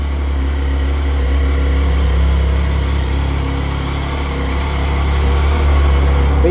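Idling close by, a 2010 Triumph Street Triple 675 motorcycle engine holds a steady, loud, even hum with no talking.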